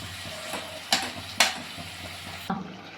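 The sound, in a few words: prawns sautéing with onion and tomato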